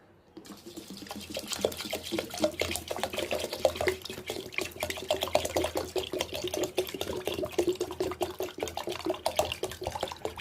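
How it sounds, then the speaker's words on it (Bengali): Water poured from a vessel onto washed rice inside a pressure cooker, a steady close splashing and trickling that runs for about ten seconds with no talking. "ধুয়ে নিয়ে এখন আমি জলটা দিয়ে দেব। আমি এখন পরিমাণে জলটা দিয়ে দেব"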